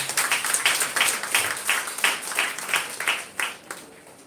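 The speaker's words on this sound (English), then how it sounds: "A big round of applause from all our audience." Audience applause at a physics association event, a steady burst of many hands clapping at moderate volume that gradually thins out toward the end, with no voices over it.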